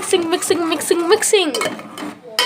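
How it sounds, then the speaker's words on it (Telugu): A spoon scrapes and clinks against a pot as boiling rice milk pudding is stirred, the milk beginning to stick to the bottom; soft repeated clinks sit under a voice that talks through most of the moment. "కింద అంటుకుంటున్నాయి, చిన్నగా కదిలియాలి బాగా."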